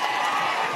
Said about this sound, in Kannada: ಜೋರಾದ ಚಪ್ಪಾಳೆ ಮೂಲಕ ಸ್ವಾಗತ ಮಾಡ್ಕೊಡಿ